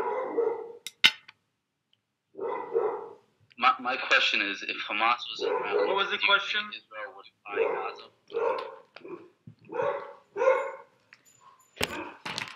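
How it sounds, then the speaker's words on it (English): A dog barks in the background of a home setting during an online interview, with short, sharp barks mostly buried under continuous conversation. "There's a dog barking in the background."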